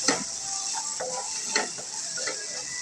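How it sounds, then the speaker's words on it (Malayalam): Okra sizzles in a hot pan with a steady hiss while a spoon stirs it, making a few soft clinks and scrapes. "വെണ്ടക്ക ഇട്ട് കൊടുക്കാം"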